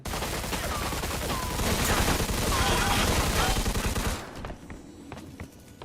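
Heavy gunfire from a gun in Mafia II roars in a dense, continuous burst for several seconds, then tapers off into a few sparse, fainter shots and footsteps.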